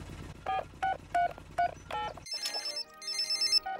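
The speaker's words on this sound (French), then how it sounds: "Allô? Allô, Papa Pig?" A cartoon telephone in a Peppa Pig episode gives a series of short electronic warbling rings, five evenly spaced bursts followed by a higher trilling electronic ringtone, clear and close with no speech.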